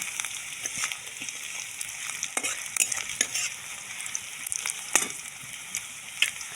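Desi chicken with spices fries in a pan, giving a steady close sizzle broken by frequent sharp stirring scrapes and clicks of a spoon.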